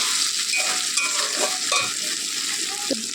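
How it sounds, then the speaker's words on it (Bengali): Meat sautés in oil in a pan, with a continuous close sizzle and occasional spoon scrapes and clinks as it is stirred. "দেখো এই যে এরকম কষবো, কষতে কষতে একটু সামান্য জল দিয়ে এবার ঢাকা দেবো।"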